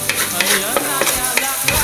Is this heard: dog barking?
no